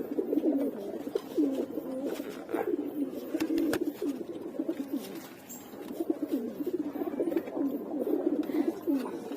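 Domestic pigeons held in the hand give steady low cooing, fluttering and shifting restlessly; the cooing stays close and continuous throughout with no voices over it.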